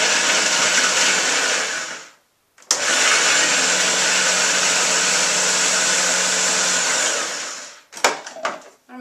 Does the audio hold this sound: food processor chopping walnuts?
yes